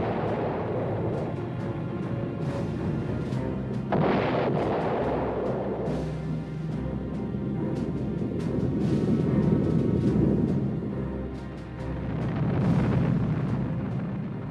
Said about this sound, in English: the atomic bomb